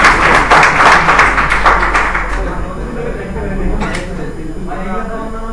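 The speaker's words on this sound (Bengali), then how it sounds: "হাততালি দেন।" An indoor audience breaks into a short burst of loud clapping that fades over a couple of seconds, with a voice speaking over and after it.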